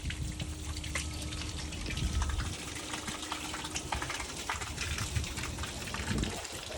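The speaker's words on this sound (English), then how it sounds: "you guys can actually kind of see how fast it's going to dump that water out" Steady rushing gush of water pouring out of a 2022 Forest River Cruise Lite RV tank dump valve, a dense splashy wash with no voices, holding level throughout.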